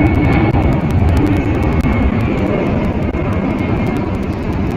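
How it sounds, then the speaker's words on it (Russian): An airplane flies overhead with a loud, steady roar that fills the whole stretch without fading, covering a broad rumble and no voices. "сейчас прилетит самолёт"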